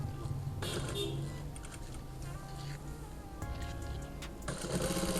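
A sewing machine stitches a sleeve placket with a steady, dense whir and fast clatter, running continuously up close and briefly surging in intensity.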